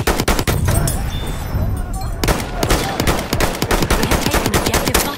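Enemy machine gun fire in the video game Battlefield 1, heard in Conquest gameplay as loud, rapid bursts. They run almost without a gap and are mixed with other gunfire and battle noise.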